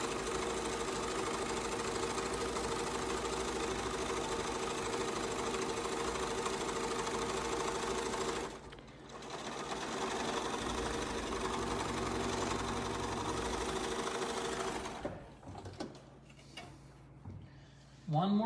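A sewing machine stitches a fabric seam with a steady, fast mechanical hum and clatter that pauses briefly midway, then resumes before stopping near the end.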